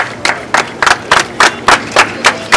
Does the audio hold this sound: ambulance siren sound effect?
no